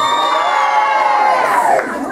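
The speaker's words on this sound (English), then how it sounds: "Stop screaming." A concert audience at a show screams and cheers at a high pitch, a dense crowd roar that holds steady and then drops off sharply near the end.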